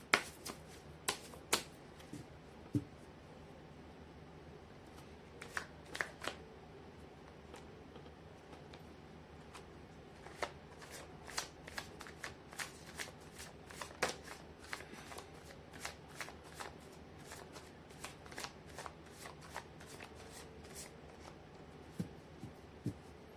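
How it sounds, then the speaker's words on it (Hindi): Tarot cards are shuffled by hand up close, producing quick riffling bursts and soft slaps in an uneven rhythm, quiet and isolated against a hushed room. "कर लेती हूँ कार्ड की शफलिंग"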